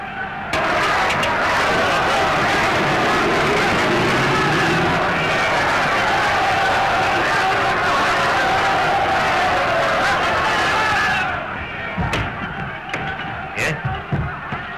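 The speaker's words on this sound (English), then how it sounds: "The crowd outside are in a terrible state of excitement." An excited crowd gathered outside after a shot, a dense roar of many voices shouting and cheering at once, loud and sustained before breaking off into scattered sharp knocks.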